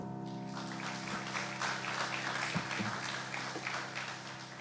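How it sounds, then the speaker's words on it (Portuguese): A church congregation at a youth service claps together, a soft, distant patter of many hands over sustained musical tones, fairly faint throughout. "Aplauda o Senhor."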